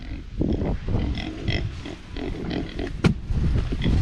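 Pigs on a farm, expecting grain, grunt and oink repeatedly at close range, with one sharp squeal-like burst partway through over a busy background.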